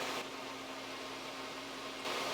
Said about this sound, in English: sorry about the fan noise, just had to turn on my fume extractor.